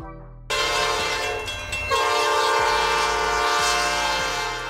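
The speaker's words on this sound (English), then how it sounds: "A train designed for transporting goods or cargo, typically consisting of freight cars or wagons carrying various types of commodities." A freight train blares its horn in a loud, sustained, multi-toned blast close by, over a steady rumble of rolling wagons.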